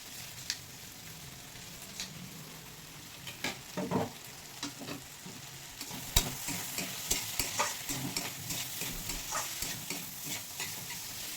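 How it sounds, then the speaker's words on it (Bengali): Vegetables with green chili and sugar frying in a pan, a soft steady sizzle with scraping stirs that grow busier and more frequent toward the end. "সবজিগুলো ভালোভাবে ভেজে নিয়েছি"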